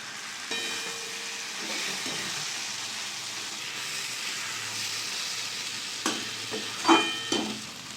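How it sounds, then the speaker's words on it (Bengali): Eggs stirred into a fried spice masala in a pan for a Bengali egg curry give a steady close sizzle, with a short run of louder scraping clatters near the end. "ডিমগুলো দিয়ে ভালো করে নেড়ে নেবো, দিয়ে জল দিয়ে দেবো।"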